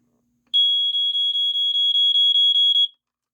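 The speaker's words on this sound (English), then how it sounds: "it sounds in the classic BRK pulse. It's got kind of like the later sound where it has a bit of a slower pulse pattern." A Montgomery Ward smoke detector sounds its alarm horn in the classic BRK style: a loud, piercing high beep pulsing rapidly about a dozen times over two and a half seconds, close and alone, then stopping abruptly.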